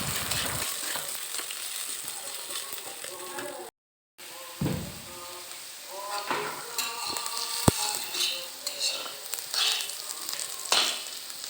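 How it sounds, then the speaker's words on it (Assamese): Food fries with turmeric powder in a pan, sizzling with crackling pops, broken by a brief silence, then scraping and clattering of stirring over the frying. "তাৰপিছতে ৰংচুৱা হোৱালৈকে মই এইখিনি ভাজি থাকিম"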